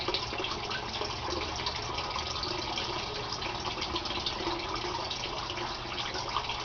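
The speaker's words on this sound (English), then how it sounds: "after about 30 seconds a siphon forms, and the water will come gushing out of that 1-inch PVC pipe you see there" Steady broadband rush of water pouring from a 1-inch PVC siphon pipe in an aquaponics setup, a continuous even gush holding level from start to finish with no talk.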